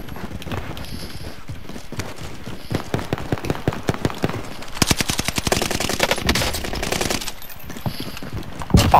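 Rapid automatic gunfire from Call of Duty Warzone on the Fortune's Keep map, loud, dense bursts of shots rattling close, with brief gaps and heavier clusters through the middle.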